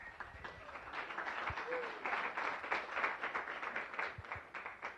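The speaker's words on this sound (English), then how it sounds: "let's give her a round of applause" Audience applause at a Rotary Club meeting in Las Vegas, a steady wash of many hands clapping at moderate level and holding through the whole stretch, with a few louder claps standing out near the end.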